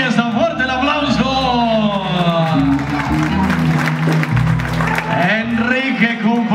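Wedding guests clap together in a steady, dense wash of applause that runs the whole time, with music and people talking and calling out over it.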